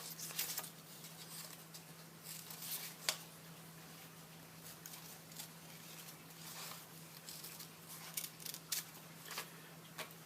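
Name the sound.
cutting paper with scissors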